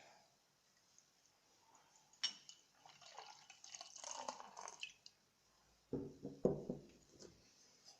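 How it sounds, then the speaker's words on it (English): Pale ale pours into a glass in a quiet room, the liquid splashing and fizzing in uneven bursts, then a louder glugging surge near the end as the head builds. "let me go ahead and pour this one in first."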